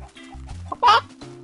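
Chicken clucking from the video game Minecraft, a short burst of clucks standing out briefly over quiet in-game background tones.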